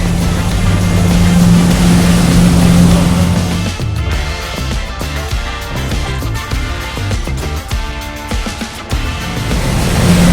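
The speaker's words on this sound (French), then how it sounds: "c'est quand même très bruyant, hein, un catamaran à moteur" Loud, steady engine drone from a motor catamaran running on the open sea, with a low hum and broadband rushing noise that shifts and surges partway through, no voices.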